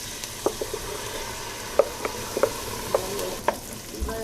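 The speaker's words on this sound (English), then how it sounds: "we're gonna cook that in the oil and throw in the chili" Chopped onion, garlic and oregano frying in lard, a low steady sizzle with repeated sharp clicks and taps of a utensil against the pan, close.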